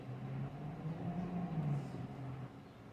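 Cars passing along a street corner outside, a low steady rumble of traffic that swells and fades slightly, heard at a distance with no talking.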